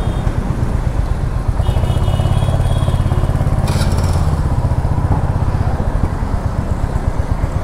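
A Royal Enfield Hunter 350 motorcycle in Rebel Blue being ridden, its engine thumping in a steady low, loud rhythm throughout, with a brief rush of higher noise partway through.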